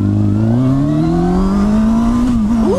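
A motorcycle with a newly fitted Superlite sprocket pulls away in an easy takeoff, its engine note rising steadily as it accelerates, loud and close with wind noise, then shifting gear near the end.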